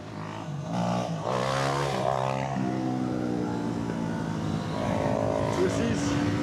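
Yamaha R3 motorcycle riding with a loud, close engine whine rising in pitch, dropping briefly at a gear shift and climbing again, with wind noise throughout.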